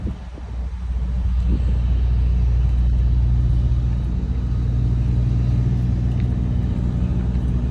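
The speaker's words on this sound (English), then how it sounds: "so I just got my new truck, 2021 Kenworth" A new 2021 Kenworth truck's engine rumbles in a deep, steady low drone close by, holding a constant level after a slight build at the start.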